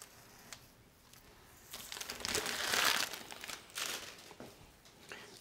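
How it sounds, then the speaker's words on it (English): A cellophane sheet peeled away from a cake board, giving soft crinkling and tearing rustles that swell to a louder crackle midway, then fade into quieter crinkles. "I always use a cellophane sheet on the board till the cake is finished. So just remove the sides first"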